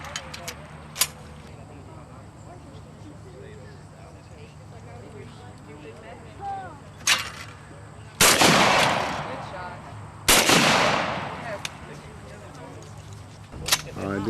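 Sharp gunshots at a 4-H youth shooting competition in Ascension Parish, a few isolated cracks early and two loud broadband blasts later, heard at moderate distance over steady outdoor background with people talking.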